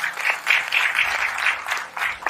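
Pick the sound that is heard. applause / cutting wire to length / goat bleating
applause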